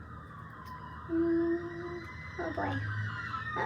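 A siren wails through the street with a rising and falling tone, partly under a couple of brief spoken exclamations and steady background traffic noise.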